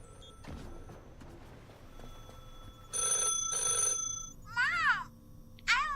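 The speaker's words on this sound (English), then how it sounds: "Oh, we got a phone call." Telephone in The Last Caretaker video game ringing with two sharp bursts of trilling bell tones, answered by warbling electronic chirps, over quiet background ambience and a low voice talking.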